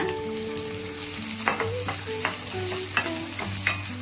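Tomatoes fry in hot oil for a Kannada-style brinjal curry, giving a steady close sizzle with occasional spoon scrapes and clicks against the pan, no voices.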